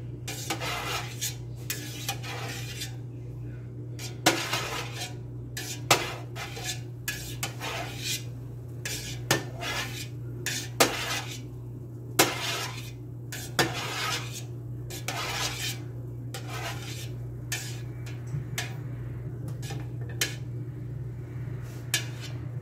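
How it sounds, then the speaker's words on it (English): Goat's milk mozzarella curds being cut in a pot, with a steady series of soft metallic scrapes and knocks of a utensil against the pot, close and fairly quiet over a low constant hum. "I'm gonna cut the curds"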